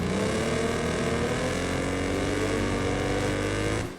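A racing car engine in the video game Wreckfest 2, a riff on a third-generation Chevrolet Cavalier, drones loud and continuous with a rough, crackling buzz, cutting off abruptly near the end.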